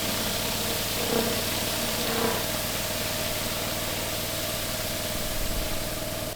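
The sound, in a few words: rotary flat surface cleaner with spinning jets cleaning resin drive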